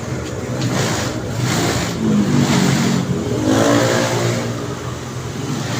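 A Mio motor scooter engine revs steadily and close by, rising and falling in a strong rough drone with heavy vibration and no talking.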